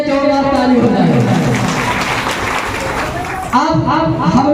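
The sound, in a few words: loud applause from the workshop audience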